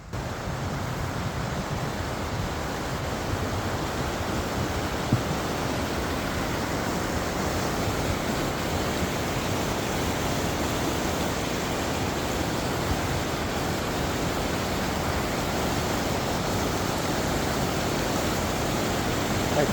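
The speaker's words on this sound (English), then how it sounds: "I hear waterfall." A steady, continuous roar of rushing water, broadband and unbroken throughout, like a waterfall or fast cascade nearby with no voices, on the Lakes Trail at Mount Rainier.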